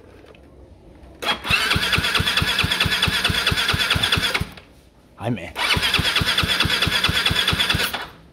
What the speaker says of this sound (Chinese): 我们先发动，吸一下油出来